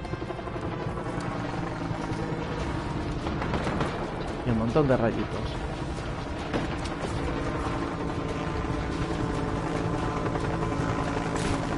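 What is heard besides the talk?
helicopter flying, from video game Just Cause 3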